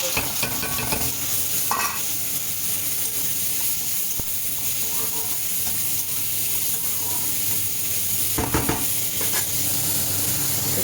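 Onion, ginger, garlic, chopped tomato and green chilli frying in hot oil and ghee produce a dense, continuous sizzle with occasional stirring scrapes and a few brief clatters.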